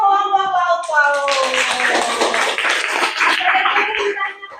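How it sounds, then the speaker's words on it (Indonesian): Children in a fifth-grade classroom clap together in a lively, continuous burst of applause. Voices call out over the start and the clapping carries on at close range. "Tepuk tangan untuk kelompok lauk pauk."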